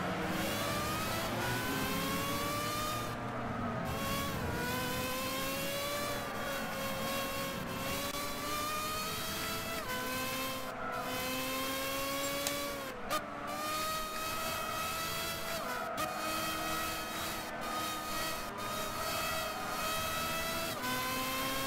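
Race car engines in Gran Turismo 6 scream steadily at high revs through the whole stretch, pitch sliding up and down with gear shifts as cars pass, loud and continuous with no talk over it.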